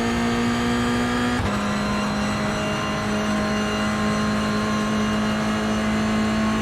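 A race car engine holds steady at high revs on throttle in iRacing, a loud, continuous tonal drone with a brief gear-shift dip in pitch early on, alone with no talk.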